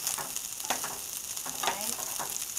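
Crab fried rice is stirred in a hot pan, a soft continuous sizzle with a handful of spatula scrapes and taps at irregular intervals, fairly quiet and close, without speech.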